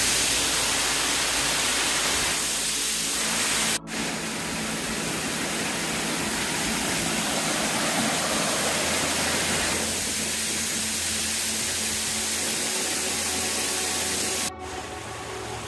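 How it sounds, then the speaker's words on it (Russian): Mountain stream with small waterfalls along a hiking trail on Mount Lafayette, New Hampshire, a steady, loud rushing roar of water close by, continuous throughout with no talk. "вдоль вот этого ручья с водопадами"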